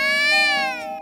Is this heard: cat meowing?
yes